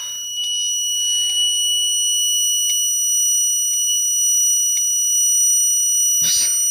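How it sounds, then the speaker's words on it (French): An electronic detector, one that keeps going off even when passed in front of an electrical cable, gives short sharp beeps spread through the clip, ending in a louder burst, with steady high tones underneath. "Ça bip en continu."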